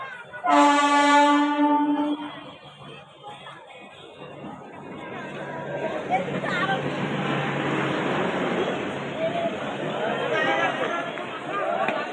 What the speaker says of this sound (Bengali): তো ট্রেন চলে আসছে